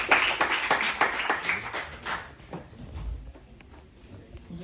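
Audience clapping at a college lecture hall event, a burst of rapid applause that is loud at first and then thins out and fades, with faint background voices.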